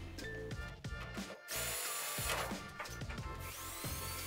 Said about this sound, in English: it was just a matter of drilling out the pop rivets and then prying them off